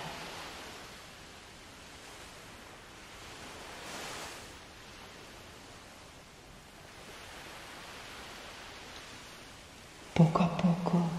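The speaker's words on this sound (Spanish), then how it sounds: "te sientas en la orilla, mirando el horizonte" Sea waves wash steadily onto the shore in a soft, continuous hiss that swells and ebbs gently, ending with a brief louder burst.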